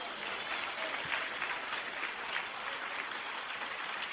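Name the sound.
congregation applauding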